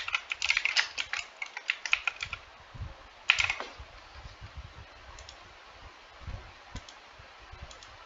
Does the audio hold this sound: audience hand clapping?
no